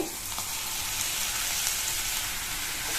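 Chopped ridge gourd sautés in a pan over a high flame, giving a dense, steady sizzle and crackle of frying that runs unbroken throughout, close and clear with no voices.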